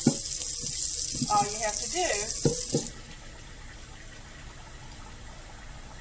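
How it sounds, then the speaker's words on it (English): Tap water runs steadily into a bowl for about three seconds under a person speaking, then shuts off, leaving quiet room tone. "once you start putting the water in"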